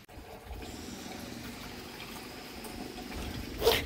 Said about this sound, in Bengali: ভালো করে ধুয়ে নিই।